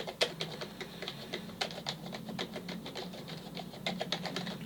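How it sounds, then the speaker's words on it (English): Rapid keystrokes on a Marvo Scorpion K616A three-colour LED USB gaming keyboard, a steady run of fairly light, crisp clicks with uneven rhythm, close up over a quiet room hum. "so when I'm typing on the keyboard"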